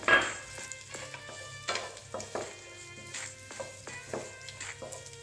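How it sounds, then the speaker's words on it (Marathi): Sliced dates frying gently in ghee, a soft steady sizzle broken by repeated scraping and clinking of a spoon stirring against the pan, close and moderately loud. "ते मी आता याच्यामध्ये ॲड करते आणि थोडेसे आपण आता तुपावर परतून घेऊया"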